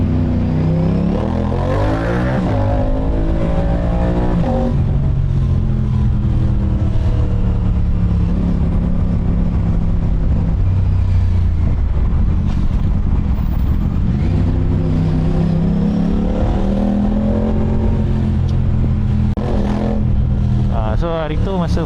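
An Aprilia RS457 motorcycle fitted with a Welly custom aftermarket exhaust revs repeatedly, its engine note rising and falling in loud swells, while a rider talks over it.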